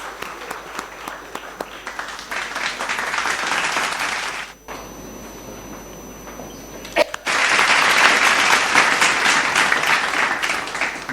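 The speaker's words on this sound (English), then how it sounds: "A round of applause for him, please." Audience applause at a corporate HR meet, a dense wash of clapping that runs steadily, drops to a quieter stretch in the middle, then swells back louder and fuller to the end.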